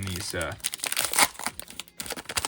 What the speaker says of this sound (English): Having a hard time opening the packs